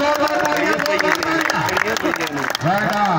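Crowd at an outdoor kabaddi match applauding, a dense patter of clapping that runs throughout, mixed with loud announcing and cheering voices over the top.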